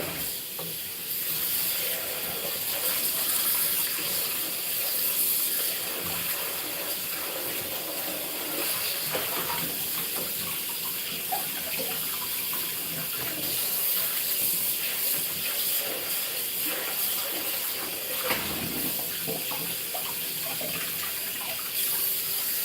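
Water runs steadily from a kitchen tap into a pot being filled to soak, a continuous hissing splash with faint clatter, no talking.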